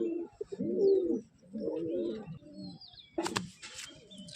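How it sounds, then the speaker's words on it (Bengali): Male pigeon cooing close by in a short series of soft, throaty, rolling coos, followed by a brief burst of flapping or rustling near the end, with no talking. "তো চলো নেক্সট তোমাদের আরেকটা নর পায়রা শখ করাই।"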